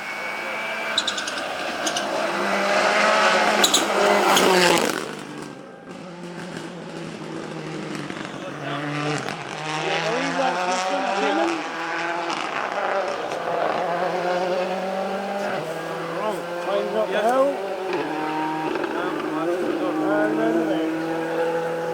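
A Mitsubishi Evo rally car on stage 14 of the 2019 Mull Rally approaches with a loud, rising engine note and repeated gear changes, its revs swelling and falling as it passes, while someone talks over it.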